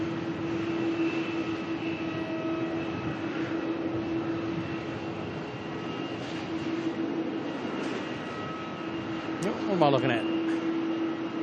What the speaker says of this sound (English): Qantas 330 here, taxiing on down to depart very soon. Jetstar is departing now.